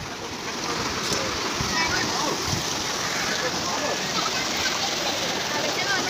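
Water runs and splashes down a slide at a large resort water park, a loud, continuous rushing wash with voices faintly mixed in.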